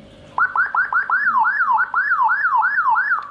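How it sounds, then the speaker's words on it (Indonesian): A Whelen HF 60-watt siren module for a motorcycle sounds loud and close, starting with a few quick rising chirps and then settling into repeated up-and-down electronic sweeps, with no voice. "Oke, kita coba siren pertama."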